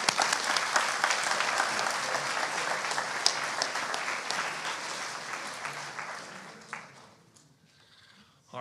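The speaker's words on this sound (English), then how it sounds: "Let's give these guys a round of applause." Audience at a high-school sports awards ceremony gives a sustained round of applause, a dense steady clatter of many hands with scattered whoops that tapers off near the end as a voice comes in.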